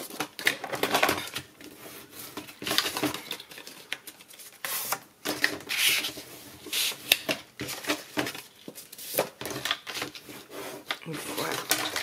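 Paper being marked and creased into 1 cm folds for a handmade album, heard as close, repeated scraping and rubbing strokes with short sharp taps and pauses between them, with no speech over the work.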